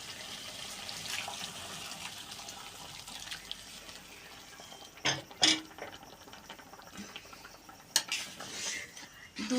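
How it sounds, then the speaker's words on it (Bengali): Milk poured into carrot halwa in a pan, with a spoon scraping and clinking against the metal as it is stirred; soft, steady stirring with a few sharper knocks midway and near the end, no voices. "দুধ দিয়ে ভালোভাবে নেড়ে নেব।"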